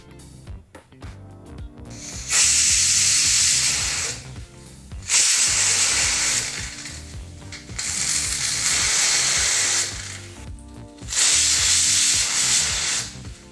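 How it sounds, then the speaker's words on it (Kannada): A pressure cooker cooking lentils for sambar lets off loud, hissing steam whistles in about four long bursts separated by short gaps of quieter rattling, with no talk. "ಈಗ ಕುಕ್ಕರು ಮೂರು ವಿಸಲ್ ಬಂದಾಯಿತು"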